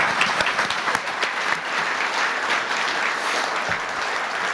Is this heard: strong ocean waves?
no